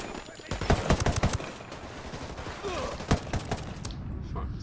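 Gunfire in Ghost Recon Wildlands: rapid bursts and single shots crack out in an irregular pattern at moderate loudness, over a low ambient background.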